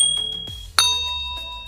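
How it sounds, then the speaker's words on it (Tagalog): A bright bell ding for a subscribe button animation strikes once partway through, ringing out with a long shimmering decay over a soft background tone. "Tapos last na effect na gaganap na is yung bell."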